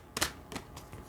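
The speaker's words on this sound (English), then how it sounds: "One more good shuffle." A deck of oracle cards gets a quick shuffle, with a few short papery riffles and flutters over about a second, close and fairly quiet.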